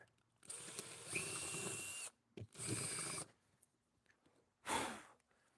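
A ratchet wrench loosening attachment hardware through drilled holes, heard as three loud, close bursts of rapid mechanical clicking separated by short pauses, with no talking.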